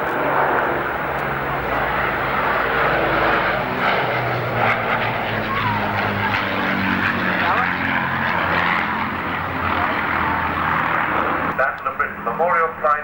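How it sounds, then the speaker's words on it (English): Avro Lancaster bomber and Hawker Hurricane of the Battle of Britain Memorial Flight passing at the 1992 Farnborough air show, droning piston propeller engines loud and sustained beneath a commentator's voice over the public address. "Memorial flight flying on Lancaster, and following him comes the Hurricane"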